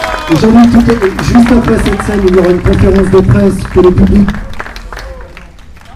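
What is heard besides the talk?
audience applauding a sailor's podium arrival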